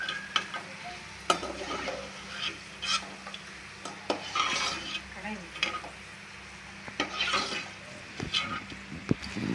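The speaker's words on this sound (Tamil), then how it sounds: "முந்திரி திராட்சை நல்லா நெய்யில் வந்து வறுத்து எடுத்துக்கலாம்." Cashews and raisins frying in ghee for rava kesari, a continuous sizzle with repeated stirring scrapes and light metal clinks of a spoon against the pan, close by and moderately quiet.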